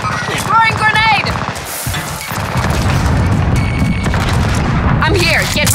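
Grenade blast and gunfire in the Call of Duty Warzone battle royale game, loud dense booms and crackling shots running throughout, with radio-style voice callouts layered over the combat.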